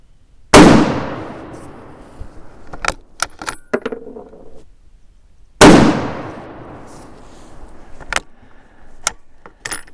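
A 1917 Remington .30-06 rifle fires two loud, sharp shots several seconds apart during load testing. Each blast trails off in a ringing decay and is followed by scattered mechanical clicks and rattles.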